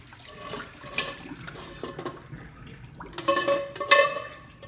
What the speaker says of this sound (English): We're gonna drain the water out